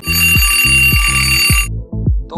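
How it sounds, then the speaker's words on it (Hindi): A morning alarm rings, a repeated electronic tone pattern with a sustained high beep over rhythmic low pulses. It plays loud and close, and the high tone cuts out partway through. "सुबह 8 बजे अलार्म की 1 घंटे के साथ ही उठ खड़े होते हैं"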